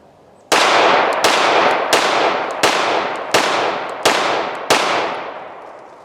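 Seven rapid, evenly spaced pistol shots ring out loud and close from a Rock Island Armory RIA 5.0, each crack leaving a short reverberant tail.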